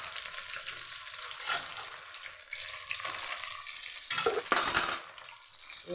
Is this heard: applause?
no